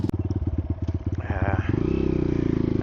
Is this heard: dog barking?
no